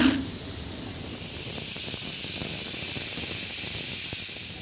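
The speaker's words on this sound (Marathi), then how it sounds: "कुकरचं झाकण लावून 3 ते 4 शिट्ट्या देऊन चणे शिजवून घ्यायचे आहे" A pressure cooker cooking black chickpeas lets out a loud, steady hiss of escaping steam that holds on without a break.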